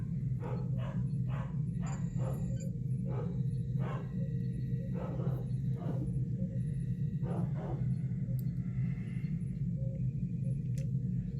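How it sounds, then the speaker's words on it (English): Dogs bark outdoors in repeated short bursts, some spaced and some in quick clusters, muffled and somewhat distant over a constant low rumble of background noise. "Okay, so if you've been hearing it, I have dogs, and they're out and about."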